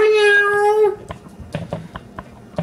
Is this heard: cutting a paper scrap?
no